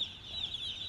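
A small farm chick gives a steady, thin high-pitched peeping, close and continuous for under a second with no other sound.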